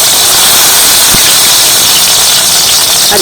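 Stuffed dumplings still wet with water dropped into hot white oil, a loud, dense, continuous hissing sputter with one brief pop, no talking.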